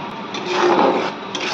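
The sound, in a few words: spices being sautéed and stirred in a pan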